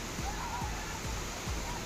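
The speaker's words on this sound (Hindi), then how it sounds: "बिहार के लंगूराही वाटरफॉल में अचानक आया तेज पानी।" Fast, heavy water pouring over Languraahi waterfall in Bihar during a sudden surge, a constant broadband roar with faint thumps underneath, steady and dense with no clear voices.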